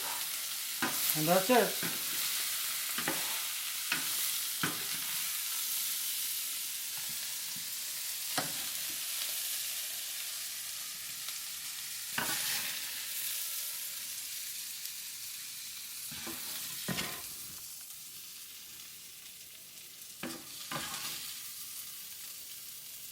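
Salt and pepper shrimp stir-fry in a pan with a spoonful of sugar, a steady sizzle broken by intermittent spatula scrapes and clacks, with a brief spoken remark.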